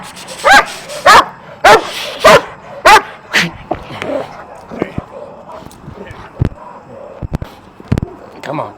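A dog barks repeatedly in loud, evenly spaced bursts, then yips and whines more irregularly while people talk nearby.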